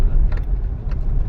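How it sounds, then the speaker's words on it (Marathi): Road traffic passes on a busy street near Adampur, with a car engine rumbling close and steady throughout and a few faint clinks and rattles on top. "कशी पण चालवतात गाड्या."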